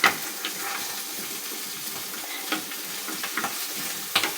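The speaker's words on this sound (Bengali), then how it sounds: "আমি আগుন কম দিয়ে এটা ভেজে নিতেছি।" Jackfruit seeds fry in a pan over a low flame, a faint continuous sizzle broken by a few soft scraping stirs and light clinks, with no voices.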